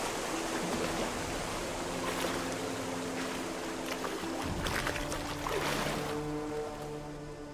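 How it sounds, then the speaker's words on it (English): A character swimming in the Gothic Remake game makes steady, loud splashing and churning water sounds, with a few stronger surges of sloshing before it eases off. "Loud water noises."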